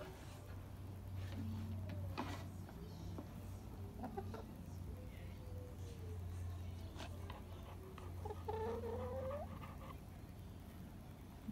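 A chicken clucks faintly at a family home where a dog and cat are also kept, giving a few short, scattered calls over quiet background noise.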